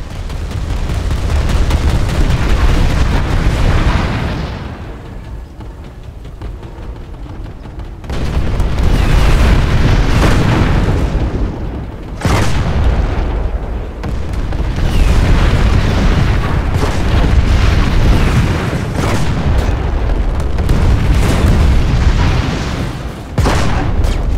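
Anti-vehicle phalanx turret in Planetside 2 fires high-explosive rounds, producing loud, continuous booming blasts and heavy rumbling explosions that run almost without pause for over twenty seconds, with brief lulls.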